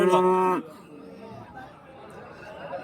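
A cow moos loudly and close at a busy cattle market in Karimangalam, Dharmapuri district, the call lasting about half a second before fading into quiet murmuring voices and low crowd noise.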